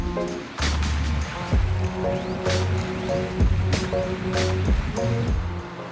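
A sailboat motors slowly across a flat, windless sea off Bali, with gentle water wash and lapping along the hull, soft rustling and a few knocks, fairly quiet and steady without talk.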